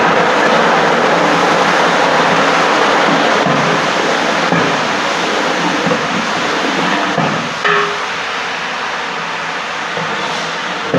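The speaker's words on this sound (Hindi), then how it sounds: "इसके अंदर मैं ये 1 गिलास पानी" A glass of water poured into browned onions in a large pot, cooking chicken degi biryani for 150 people, produces a loud, steady hiss and sizzle that lasts throughout and eases slightly near the end.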